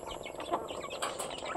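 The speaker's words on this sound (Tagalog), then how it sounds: "ang mga manok" Chickens clucking outdoors near a river, several overlapping short calls over a busy, noisy background with no speech.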